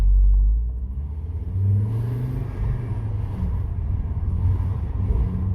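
A car accelerating from inside the cabin through a shift into second gear with a short shifter, a low engine rumble and drone that dips briefly at the change and then steadies as the car pulls away.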